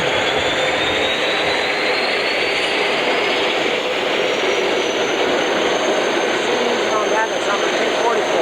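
Jet aircraft on the ground at Pensacola, a single-engine jet trainer, giving a steady loud broadband roar and whine that holds throughout, close by, with faint voices in the background.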